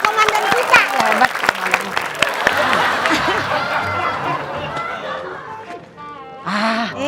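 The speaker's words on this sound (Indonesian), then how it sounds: "Kasih tepuk tangan dong buat komandan kita" Applause from a group honoring their commander, a burst of sharp claps that fades into laughter and chatter, with people talking over it near the end.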